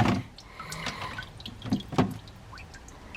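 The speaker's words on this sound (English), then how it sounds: "So I got a bucket over here with a little water. I'm gonna rinse it off." An old horseshoe rinsed in a bucket holding a little water, with close splashing, dripping and sloshing, a few heavier clunks in the middle, and no talk.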